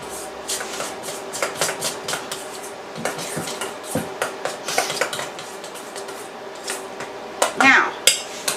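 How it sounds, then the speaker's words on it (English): A spoon stirs cinnamon glaze in a bowl for blueberry breakfast biscuits, giving repeated light clinks and scrapes against the bowl in an uneven rhythm, with a quick flurry of louder taps near the end. "you're just going to stir this until it comes smooth"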